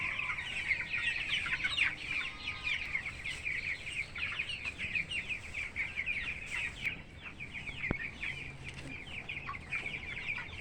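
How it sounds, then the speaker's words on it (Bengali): Many 17-day-old broiler chicks peep and cheep continuously in a chorus, moderately loud and close, with occasional faint background clatter. "আজ 17 দিনের মুরগি।"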